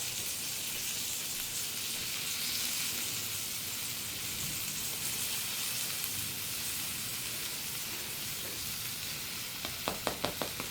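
A ham and cheese panini fries in butter on a hot pan, giving a continuous close sizzle with a few sharp clicks near the end.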